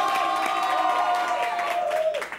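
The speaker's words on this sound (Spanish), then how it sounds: "un aplauso para ellos" A studio audience applauds and cheers for comedians in a brief, dense burst of clapping with a sustained tone and voices on top, fading at the end.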